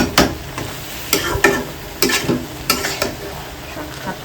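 Masala and water sizzle together in a pan, punctuated by half a dozen sharp stirring or scraping strokes at an uneven rhythm, close and fairly loud with no voices.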